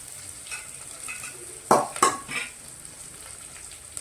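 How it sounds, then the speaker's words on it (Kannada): Onions, curry leaves and dried fenugreek leaves fry quietly in a pan, a soft sizzle under a couple of sharp clanks as a spoon stirs and knocks the pan midway. "ಈಗ ಇದೆಲ್ಲ ಸ್ವಲ್ಪ ಹೊತ್ತು ಫ್ರೈ ಮಾಡೋಣ ರೀ"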